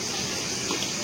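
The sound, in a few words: pouring soybean oil into a hot wok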